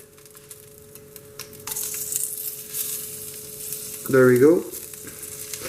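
Butter sizzling in a hot pan just after veal shanks were seared for osso buco, a steady frying hiss with a louder burst of crackle near the end under a brief spoken remark.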